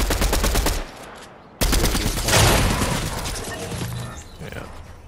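Rapid automatic gunfire in Fortnite, loud and close, in fast repeated bursts with a brief pause before heavier fire resumes, trailing into echoing shots.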